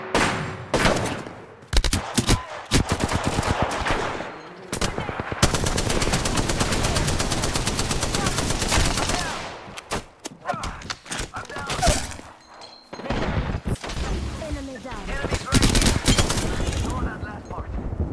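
Rapid automatic gunfire from the battle royale shooter Apex Legends, dense loud bursts and single shots in a fierce firefight, with brief pauses between volleys.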